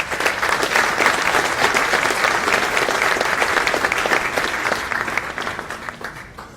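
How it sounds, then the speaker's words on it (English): Crowd at the 2019 South Atlantic Conference Hall of Fame induction ceremony giving a sustained, dense round of applause that fades slightly toward the end, filling an indoor hall. "You guys are really optimistic tonight with that round of applause"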